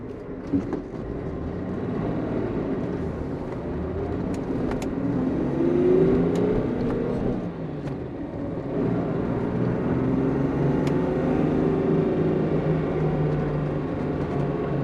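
A 1963 Mercedes W111 220SE Cabriolet with a four-speed manual gearbox hums steadily from inside the car on a test drive, its engine note rising and falling gently with the road noise throughout.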